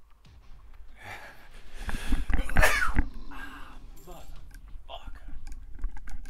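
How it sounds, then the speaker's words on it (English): A single sudden human sneeze bursts out loud and close, with a gasp and some faint keyboard clicking around it during a relaxed online slot-machine gaming session. "God, I'm gonna sneeze."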